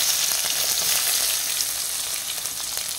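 Chopped ginger, onion and dried red chilli fry in hot oil, giving a steady, dense sizzling hiss that stays loud and close throughout, with small crackling pops scattered across it.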